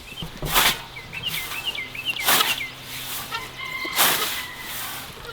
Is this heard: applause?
no